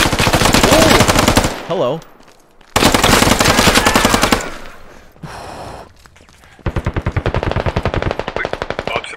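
Rifle fire in the video game Squad, with long rapid automatic bursts, loud and close, broken by short pauses, followed by a burst of evenly spaced shots; a brief spoken word is heard.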